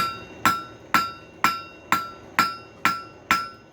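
A hammer strikes hot metal while forging a round taper, with eight evenly spaced, ringing blows about half a second apart, each sharp clang decaying quickly before the next.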